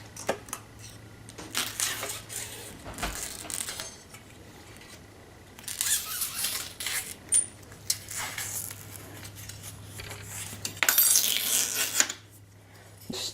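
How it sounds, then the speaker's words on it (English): A razor blade slices through woven electrical tape stuck to the underside of a Panasonic 55-inch plasma TV screen during teardown, giving intermittent close scraping and crackling bursts with quiet gaps between them. "No, I'm just using a razor to cut that."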